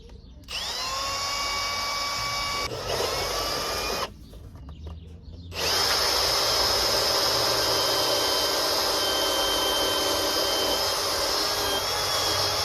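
Power drill boring a hole in a Ford Transit Connect van, a loud high whine in several bursts with a brief pause, the motor pitch shifting as it cuts.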